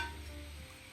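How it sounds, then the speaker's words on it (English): Spicy sweet pork bulgogi sizzles in a hot pan, a steady close frying hiss with soft stirring movement throughout. "You're gonna hear sizzling sound."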